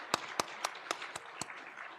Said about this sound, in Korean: 우리 격려의 박수, 우리 하나님께 영광의 박수 한번 하시죠.